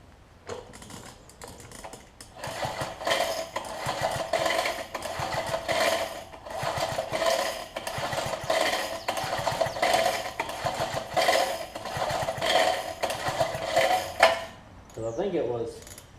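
A Coleman pressure washer engine with WD-40 in the cylinder is turned over by hand, back and forth, giving a fast, rhythmic mechanical clatter that runs for about twelve seconds between quieter moments.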